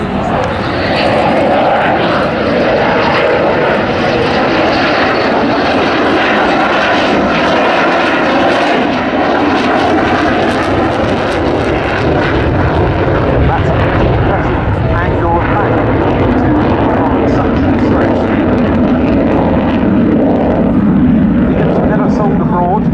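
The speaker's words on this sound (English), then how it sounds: "Undercarriage down for a very steep wing rocking pass." A Cold War-era Swedish Air Force military jet makes a steep, wing-rocking flypast with its undercarriage down at an RAF Waddington airshow, producing a loud, sustained engine roar and rumble that fills the whole stretch with little variation.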